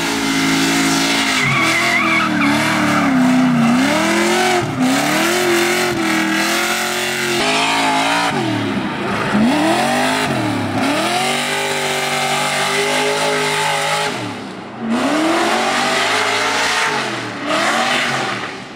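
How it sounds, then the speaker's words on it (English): A car drifting around a private racetrack, its engine revving up and down in long sweeping pitches while the tires squeal through the slides, loud and continuous with no talk. "We're gonna do a ton of drifting."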